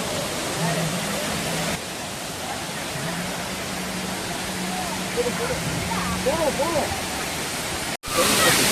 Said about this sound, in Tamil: நம்ம வாட்டர் ஃபால்ஸை ரீச் பண்ணிட்டோம்